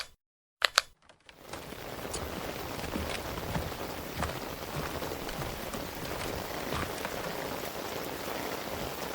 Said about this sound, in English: The way each raindrop produces a ripple, making a brief impression on the lake's surface before quickly disappearing.